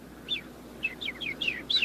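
A small bird chirping, a quick run of six or so high bright tweets in an irregular rhythm, close and clear with no talking.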